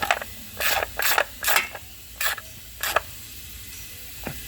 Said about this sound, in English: I just grabbed the center part of the ratchet to not put too much leverage on it